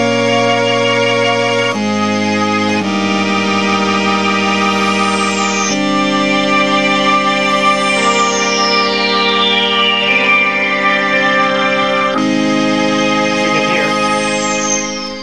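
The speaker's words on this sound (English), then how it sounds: "you're hearing the envelope generator from the filter" Sustained chords from a Moog Opus 3 synthesizer change every few seconds while a filter envelope sweep glides down through the tone, loud and continuous with no voices.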